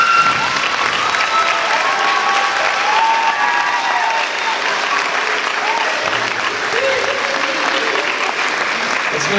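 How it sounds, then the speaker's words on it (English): Audience at a school district choral concert breaks into sustained applause, dense clapping that continues steadily at full volume from start to finish. "Can I please give a round of applause for Miss LaJoyce Terrell?"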